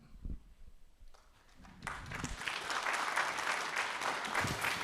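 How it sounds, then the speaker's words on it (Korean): Audience at an academic presentation on Korean Neo-Confucian philosophy breaking into applause, a few scattered claps first, then a full, sustained burst of clapping from the room that carries on to the end. "발표와 토론을 맡아주신 두 분 선생님께 큰 박수 부탁드리겠습니다."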